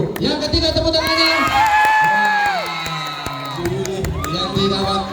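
An audience at a primary-school vocal group contest cheers and whoops for the third contestant, with children's shouts and scattered claps blending with a voice speaking over the crowd noise.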